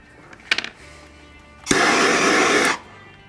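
A heat gun switches on with a sudden loud blast, blowing a steady whooshing roar for about a second as it heats a GunSkins vinyl skin on an AR-15 rifle, then cuts off; a few quick handling clicks come just before it starts.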